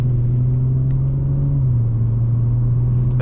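Steady low engine drone from a 2020 Audi S4 Prestige with the 3.0T engine, heard from inside during a test drive, a loud constant hum with a slight pitch drop midway and no speech.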